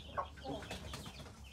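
A hen kept in a small backyard setup alongside pigeons clucks softly while pecking at millet grain, brief low clucks close by amid faint rustling.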